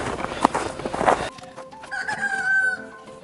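Chickens cluck and call in a homestead chicken area, starting behind a loud rustling and handling noise and then heard more clearly, moderately near, with a drawn-out call near the end.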